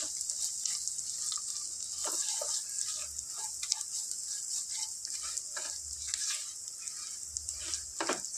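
Dried fish sizzles steadily in a pan for a tomato curry, a dense continuous frying crackle with occasional stirring clicks and scrapes, close and alone without any voices.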